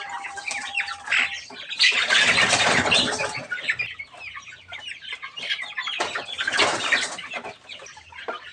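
Chickens and large roosters at a backyard breeding pen cluck and squawk throughout, with loud overlapping bursts of calls early on and again near the end, and no talk.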